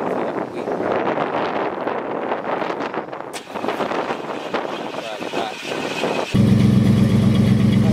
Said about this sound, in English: This one got a lot more rumble at idle.